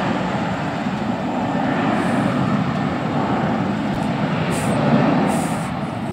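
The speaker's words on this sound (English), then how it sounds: "Just a little sound of JetBlue for all of y'all to hear how it sounds" A JetBlue airliner takes off, heard as a steady broadband jet engine roar at a distance, fairly even and sustained with a slight swell near the end, no talking.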